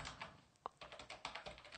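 Fingers type code on a computer keyboard, producing a quick, faint run of clicky keystrokes with an uneven rhythm and one sharper tap.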